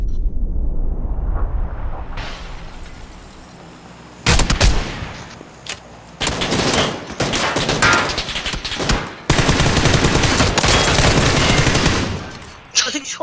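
Loud, close automatic gunfire in a shooting video game arrives in several sustained bursts separated by brief pauses, with quieter game noise between them.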